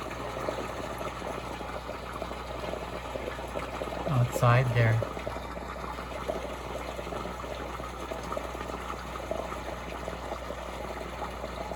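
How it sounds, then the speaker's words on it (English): A koi pond aerator keeps winter water bubbling outdoors, a steady soft wash of bubbles running throughout, with a brief spoken phrase partway through. "You can hear the pond bubbling."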